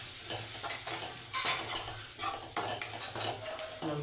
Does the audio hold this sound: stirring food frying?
yes